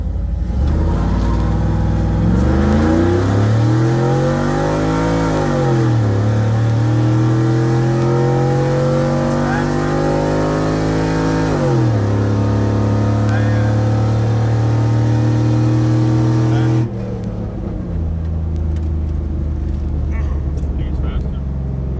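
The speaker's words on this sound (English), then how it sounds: "this is the no muffler test after the tune" A cammed Chevrolet 5.3 litre V8 with no muffler revs after a tune, its loud raw exhaust climbing and falling in pitch, then holding a high steady drone before dropping abruptly to a rumbling idle.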